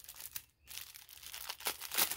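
Crinkly plastic packaging being handled and pulled open at close range, with a brief quiet gap before more crackling and a sharp crinkle near the end.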